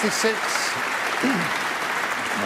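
Judd Trump's brother applauds a shot at the 2019 Masters snooker championship, steady clapping blending with general crowd applause under a commentator's voice.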